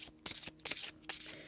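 Tarot cards being shuffled by hand, quiet bursts of riffling and flicking in a few quick rounds, close and alone.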